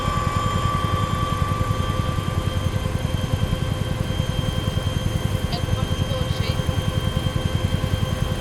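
Helicopter engine and rotor winding up on the ground before takeoff, a steady loud throbbing drone with rhythmic rotor pulses filling the whole stretch, close and continuous.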